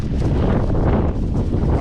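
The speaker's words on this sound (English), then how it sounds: "it is super windy" Strong wind buffets the microphone outdoors, a continuous loud low rumble with gusty fluctuations and no clear voices.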